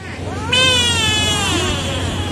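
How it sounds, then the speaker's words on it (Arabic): A frightened frog lets out a long, loud, wavering cat-like wail that rises and then trails off, close to the microphone and heard alone. "الضفدع من الخوف قلب قطة."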